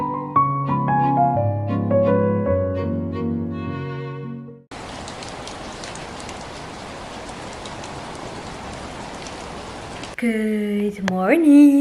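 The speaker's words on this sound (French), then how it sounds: "Guys, dehors il pleut de fou" Heavy rain falling outside, a dense steady hiss for several seconds, framed by bursts of music before and after.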